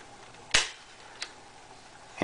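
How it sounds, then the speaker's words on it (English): Cylinder of an AR6 air pistol pushed into place during loading, giving a sharp snapping click followed by a lighter second click and another crisp snap at the end, close and distinct over a quiet background. "when you're ready to load it, you simply take it up and line it up with those two notches and give it a little push"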